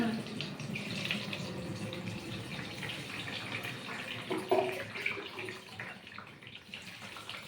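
Flattened rice (poha) being rinsed under a running tap, with a continuous rushing splash of water and small sloshing surges throughout.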